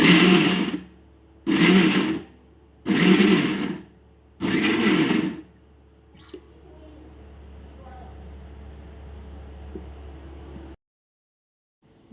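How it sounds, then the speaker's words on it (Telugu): Mixer grinder blending chutney ingredients for Andhra-style dosakaya pachadi, four loud whirring pulses of about a second each separated by short pauses, followed by a quieter rattling tail. "మొత్తం ఇప్పుడు మిక్సీ పట్టేసుకుందాం మొత్తము."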